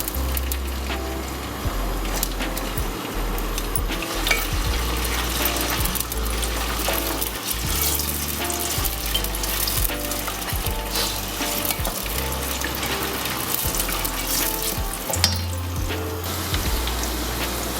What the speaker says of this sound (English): add 450 milliliters of vegetable oil, next add 80 grams of garlic and 70 grams of ginger and let them fry for a few minutes